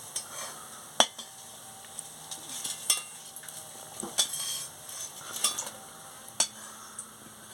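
Small prawn fritters fry in hot oil with a soft, continuous sizzle, broken by sharp metal clinks and scrapes of a spoon against the pan, heard up close with no talking.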